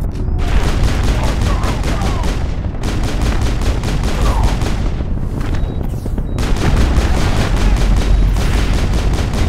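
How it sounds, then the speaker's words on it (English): Rockets and heavy fire hitting the player in the video game Mass Effect: a loud, dense barrage of rapid repeated blasts with brief gaps, continuing almost without pause. "I hit a rocket to the fucking face, dude."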